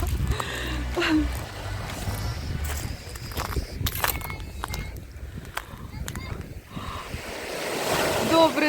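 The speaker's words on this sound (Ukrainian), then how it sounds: "Моречка" Sea waves wash steadily onto the shore at Langeron beach in Odesa, a continuous surf roar with gusting wind buffeting the microphone and occasional footsteps and voices nearby.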